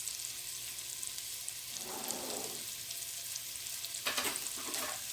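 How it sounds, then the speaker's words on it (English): Garlic frying in hot oil over high heat for shrimp soup, a steady close hiss of sizzling with a couple of louder crackling bursts near the end, no voices. "Don't put them in first, because what they're going to do is they're going to splatter and you can get the oil in your face."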